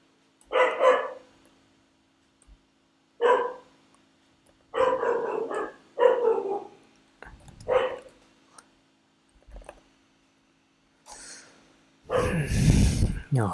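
A dog barks repeatedly in short bursts, loud and close, with gaps of quiet between the barks and a louder rustling burst near the end.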